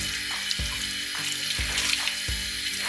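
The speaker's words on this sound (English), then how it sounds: "And now I just want to run it under cold water so it's cool enough for me to touch." Cold tap water running over dyed silk in a sink, a steady close splashing stream with soft rhythmic surges as the fabric is moved under the flow.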